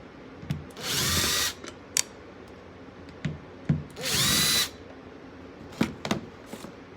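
A power drill driving screws whirs in two short bursts of about a second each, with clicks and light handling knocks between them, close by.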